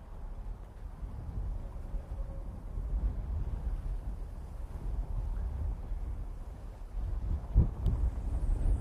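Blustery 40-mile-an-hour wind on a bass fishing boat buffets the microphone in a continuous low roar, swelling and easing in gusts, with a sharp knock near the end.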